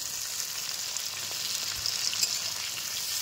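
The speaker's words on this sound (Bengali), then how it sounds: "তো টমেটোটা একটু ভেজে নেবো।" Chopped tomatoes fry with capsicum in a pan for an egg dopiaza, giving a continuous, even sizzle at moderate loudness with light crackles and no talking.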